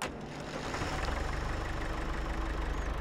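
A John Deere tractor engine in Farming Simulator 22 runs at a steady idle just after starting, a continuous low rumble with a slight knocking texture, close and loud throughout with no talking.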